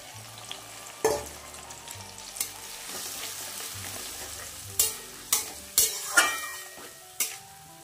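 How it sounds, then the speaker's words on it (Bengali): Spice paste hitting a hot pan of fried potatoes, a close sizzle and steady frying broken by sharp scrapes and clinks of a spoon stirring against the pan, with no voices. "সেই পেস্টটাই এখন আমি এটার মধ্যে ঢেলে দিচ্ছি।"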